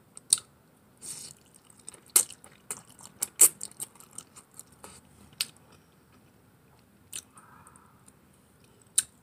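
Someone chews spicy noodles close to the mic, with wet irregular bites and squishy crunches that come in bursts and then space out, and no talk.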